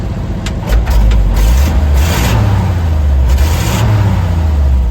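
A 1956 Oshkosh plow truck engine runs loudly close by, its low rumble rising in a couple of revs, with full exhaust.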